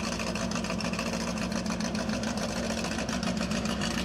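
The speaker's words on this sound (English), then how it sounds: "Off the push truck, nice and clean, and away he goes." Vintage 4-cylinder gas Belly Tank lakester pulling away off the push truck at El Mirage dry lake, a continuous mid-pitched engine drone, steady and moderately loud throughout the short stretch with no talk.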